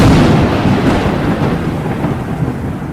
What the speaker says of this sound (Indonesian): Rumah mewah Sarwendah disambar petir.